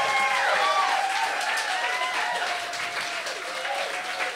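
Loud applause and cheering from a crowd at a launch party, with whoops and voices rising over the clapping near the start and continuing at a strong steady level.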